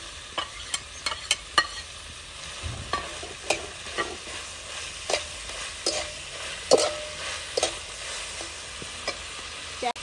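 Carrots, capsicum, onion, tomatoes and peas sauté in a pan for kadhi pulao, a steady sizzle broken by frequent sharp scrapes and clicks of a spoon stirring against the pan, close and moderately loud.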